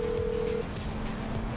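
Phone dialing tone in a video game: a steady beep for about half a second, then a fainter ringback tone over busy game background noise, with no talk.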